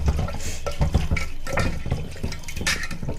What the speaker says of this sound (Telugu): బాగా వాష్ చేసుకోవాలి. తర్వాత కొంచెం పసుపు వేసుకొని కూడా కడుక్కోవాలి మంచిగా.